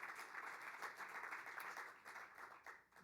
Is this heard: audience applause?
yes